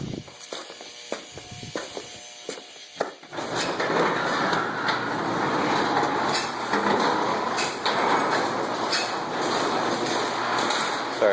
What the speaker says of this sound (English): Sorry about the door making a noise there.